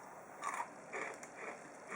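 Crunchy, buttery, lightly toasted almond shortbread biscuit bitten close up, giving a few soft crisp crunches in quick succession with no talking.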